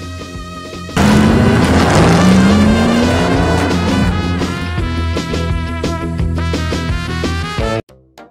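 NASCAR race car roaring around a track in a film scene against Jeff Gordon, loud engine revving and rising whine with tire squeal and racing effects, cutting off abruptly at the end.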